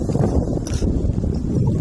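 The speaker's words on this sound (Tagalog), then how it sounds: "Hangin." Wind buffets the microphone in a loud, low rumbling roar with uneven gusts throughout.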